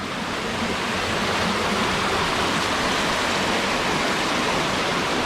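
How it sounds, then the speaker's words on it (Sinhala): A large stream rushes steadily down past a hotel beside a narrow footpath, a dense, even wash of flowing water with no voices. "මෙන්න මේ දොළ පාර තමයි මායින් එන්නේ."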